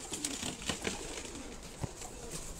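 Pigeons coo softly in a breeding loft, low repeated murmuring calls over a steady rustling background, fairly close and continuous without talk.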